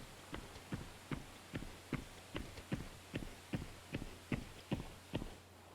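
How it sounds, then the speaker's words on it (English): Footsteps crossing a rooftop in the shooter game Exfil Zone, a quiet, evenly paced series of about fifteen muffled thuds over a low steady hum, with no talk. "And I hear some footsteps."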